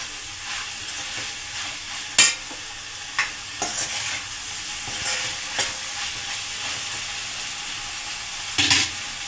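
Broad bean curry being stirred in a frying pan, with a steady background sizzle broken by several sharp scraping clacks of the spoon against the pan. There is no talking.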